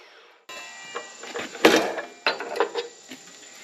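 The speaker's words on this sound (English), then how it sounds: "this is by far my favorite way to cut steel" Close mechanical rattles and scraping bursts come from a cold cut saw cutting steel frame stock for a custom heavy-haul toterhome. The cut starts abruptly and runs unevenly, with louder clanks partway through.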